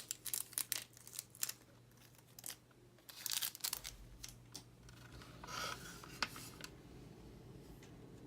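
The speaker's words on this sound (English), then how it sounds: "let's dump out these screws because these are the screws that we're going to need." Small screws for a DeAgostini Build Your Own R2-D2 model kit are tipped out of a plastic packet, giving close crinkling and rustling of the bag with scattered sharp clicks and a brief rattle of metal parts landing, no talking.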